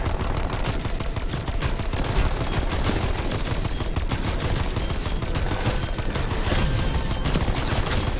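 Pistol fire in the Firebase Z zombies video game: dense, continuous gunfire and game noise fill the whole stretch, loud and busy without pause, with no voices.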